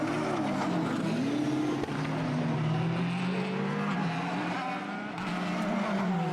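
A Formula BOSS race car passes on the Mondello track in Ireland, its engine note sweeping up and down in pitch as it goes by loudly, with continuous motor roar throughout and no talk.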